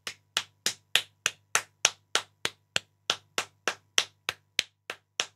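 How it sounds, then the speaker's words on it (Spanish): Crisp single claps, around eighteen at a slow, even pace, close and alone, mark the end of a streamed 'Si te ríes, pierdes' laugh-and-lose game, with a low hum underneath. "señoras y señores, aplausos"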